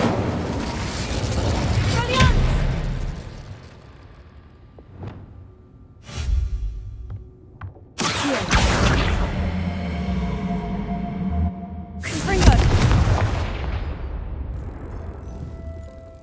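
Incendio fire spell blasts in Hogwarts Legacy, several loud booming bursts with whooshing fiery tails, spaced a few seconds apart, and a voice calls out between them.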